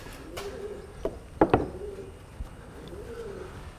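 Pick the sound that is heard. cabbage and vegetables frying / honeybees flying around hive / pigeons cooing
pigeons cooing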